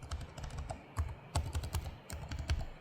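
Typing on an HP Omen Max 16 gaming laptop keyboard in short bursts of clicky keystrokes, close up, with brief pauses between flurries.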